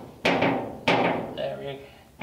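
Hammer tapping on a replacement door skin for a rusty Ford Model A door being re-skinned: two sharp metallic taps followed by a softer ringing knock, close and moderately quiet.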